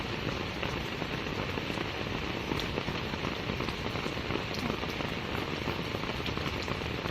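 Steady rain patters densely on a surface beside a canal, a constant close hiss of drops with no voices.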